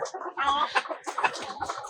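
Native desi hens cluck close by in a hen house, two of them laying eggs, in a busy, overlapping stream of short throaty calls, with no one talking.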